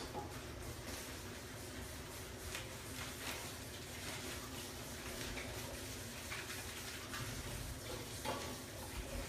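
Beef and greens stir-fry cooking in a pan, giving a steady, close sizzle with faint stirring and scraping that stays even throughout.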